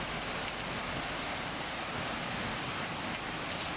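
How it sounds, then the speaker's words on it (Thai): Steady, dense rain falling continuously, an even hiss with no pauses and no voices. "จะสิ้นเดือนพฤศจิกาแล้วนะครับผมแต่ฝนมันก็ยังตกอยู่"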